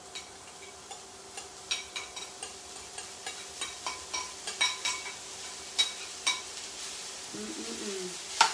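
Mushrooms saute in a pan with a steady low sizzle, punctuated by a regular series of close, sharp utensil taps and scrapes against the pan, with no talking.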